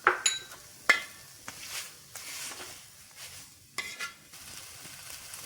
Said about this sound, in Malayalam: നന്നായിട്ട് നെയ്യിൽ വഴറ്റിയെടുക്കുക ചേന